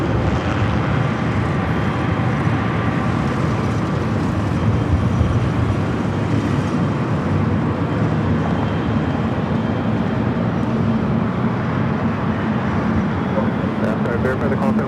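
An airplane takes off at Los Angeles airport, its jet roar a broad, steady, loud rumble throughout with no break.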